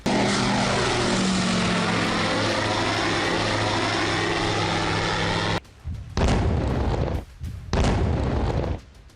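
Russian drone flying over Ukraine, a loud, steady propeller-engine drone with a sweeping pitch that cuts off abruptly, followed by several heavy, close bursts of noise, with no talk.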